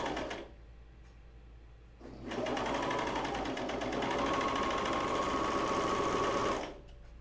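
Serger machine stitching fabric for underwear, with a soft idle hum and then a loud, steady, fast mechanical whirr that runs for about four seconds before stopping.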